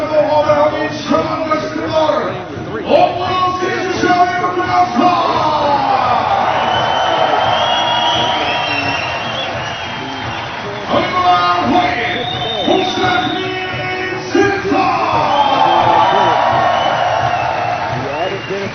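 A home crowd at a FIBA 3x3 World Cup basketball game cheers and roars in sustained loud waves, with swelling bursts of shouting and whoops, while an announcer's amplified voice talks over the noise throughout.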